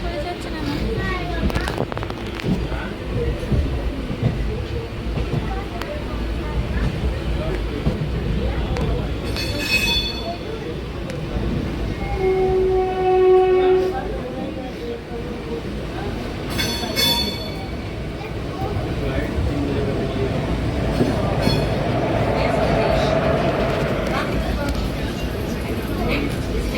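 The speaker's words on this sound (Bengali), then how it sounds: "এখন ট্রেন ছেড়ে দিল" A passenger train runs with a steady rumble and rattle of the wagons, a few faint metallic squeals and clinks rising over it, with people talking nearby throughout.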